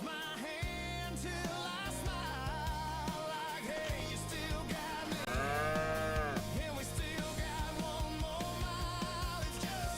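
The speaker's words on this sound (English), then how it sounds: "As long as we just keep an eye on the cows and stuff like that." Cattle mooing in a farm park video game, several drawn-out moos over a steady bed of background game music, with no talking.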